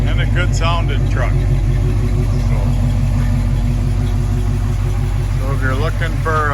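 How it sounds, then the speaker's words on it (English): A 1969 Chevrolet C10 4x4 short-box pickup idles steadily and close, a constant low engine rumble running the whole time, with a voice speaking over it at the start and end. "And a good sounding truck."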